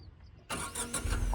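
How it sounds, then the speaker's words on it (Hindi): A car engine cranks and catches with the clutch held down, a short starter burst followed by a rising idle, close by, while a voice speaks over it. "अब सबसे पहले आप क्लच दबा के इंजन ऑन करिए, करिए इंजन ऑन"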